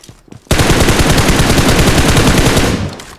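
Sustained automatic gunfire from an online shooter game, a loud rapid burst lasting nearly three seconds after a short quiet start, then tailing off.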